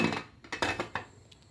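A cooking pot of boiling chitranna rice being covered, giving a quick cluster of metallic clanks and rattles from the lid settling into place, close by and brief.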